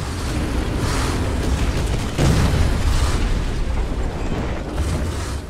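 Explosions under heavy fire in War Thunder, a loud continuous rumble of booms with a heavier burst around the middle, no talk.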